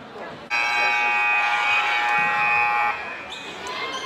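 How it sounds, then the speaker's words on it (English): A loud electronic buzzer sounds for about two and a half seconds at an indoor basketball game, a harsh steady tone over crowd noise and nearby talk. "You hear that buzzer right there."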